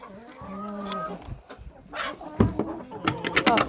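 A turkey calls nearby, gobbling and clucking, with a few sharp higher calls toward the end, amid rustling barnyard noise.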